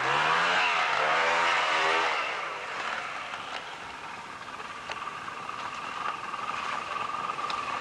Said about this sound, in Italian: è Ezio che porta la moto